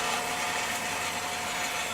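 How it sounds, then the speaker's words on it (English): An Acra 10 x 15 inch variable-speed swivel head horizontal miter band saw, heavy duty with coolant and hydraulic feed, runs with a steady, loud broadband machine whir and no talk over it. "We'll go ahead and start the machine, let you see it run."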